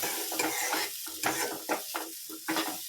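Cassava pieces frying with chili powder in a pan, a steady sizzle broken by repeated scraping stirs of a spoon at an uneven rhythm, close and moderately loud with no voices.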